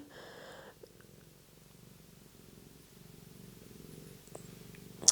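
A cat purrs softly and steadily nearby in a quiet indoor room, a faint rhythmic rumble continuing throughout with a brief sharp click near the end.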